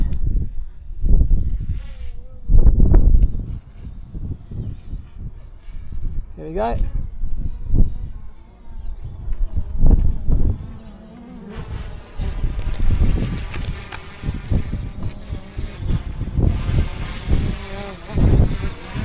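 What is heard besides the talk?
drone buzzing in flight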